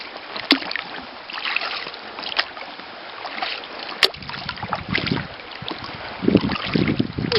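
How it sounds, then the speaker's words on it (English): Paddling a kayak on open water, with soft splashes and swishes of the blade coming and going at an irregular pace under steady wind noise against the microphone, growing stronger and closer toward the end. "No, to get the paddling down."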